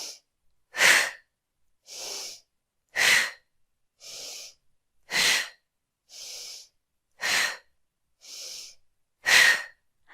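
Deep breathing exercise with slow, steady inhales and exhales alternating in an even rhythm, each breath a clear airy rush close to the mic with short silences between.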